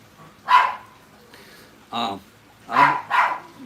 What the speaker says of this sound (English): my dog's barking out there, if y'all hear that barking.